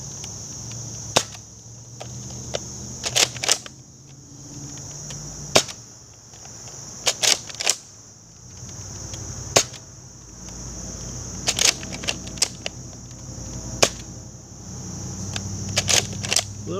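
A Nerf Modulus Tri-Strike blaster fires foam darts, giving sharp, isolated snapping shots with spaced pauses, some in quick pairs or triples, close and alone over a steady background hum.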